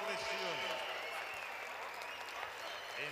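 Steady applause from a crowd for the Italian team at an international battle-of-the-nations competition, continuous and fairly close for about three seconds, with a voice speaking over it.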